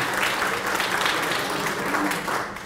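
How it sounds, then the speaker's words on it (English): Volunteer Planning Commission members receiving a round of applause at a volunteer salute event, a full, steady roomful of clapping that tapers slightly at the end, with faint voices underneath. "I'd ask you to stand and receive a round of applause."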